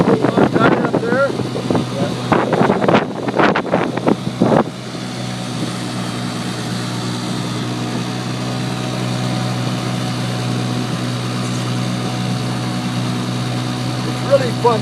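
A 1959 Evinrude 5.5 hp Jubilee outboard motor runs on a lake with a steady, smooth, fairly quiet drone; someone talks over it for the first few seconds, then the motor continues alone.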